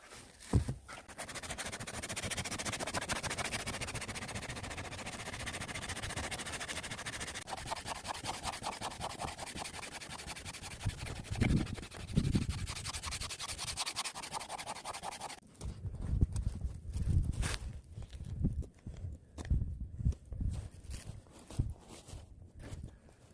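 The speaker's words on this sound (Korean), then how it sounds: "사포 백방부터 할 겁니다." Long, steady rasping strokes of 100-grit sandpaper rubbed back and forth over wood for a bowl, continuous and close, with rougher scraping toward the end.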